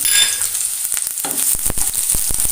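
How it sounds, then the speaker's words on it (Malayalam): Garlic and chopped shallots frying in coconut oil in a pan, an initial bright sizzle followed by sharp scraping stirs and spatula clicks, close and fairly loud with no voices. "ഞാനൊരു പാൻ അടുപ്പത്ത് വെച്ച് വെളിച്ചെണ്ണ ഒഴിച്ചിട്ടുണ്ട് അതിലേക്ക് രണ്ടല്ലി വെളുത്തുള്ളി ഇട്ട് കൊടുക്കുന്നുണ്ട്"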